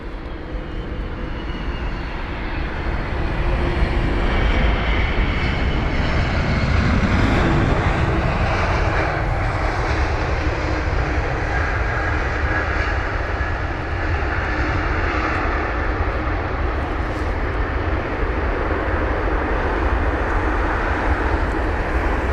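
A 31-year-old airliner arriving at London Heathrow airport roars steadily and loudly for the whole stretch, its jet engine noise swelling and shifting slightly as it passes close by.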